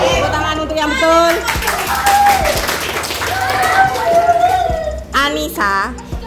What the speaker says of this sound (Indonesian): Tepuk tangan untuk yang betul.